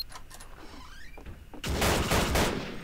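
A burst of rapid gunfire erupts in a video game after a few scattered earlier shots, the dense shooting loud and close and running through the end.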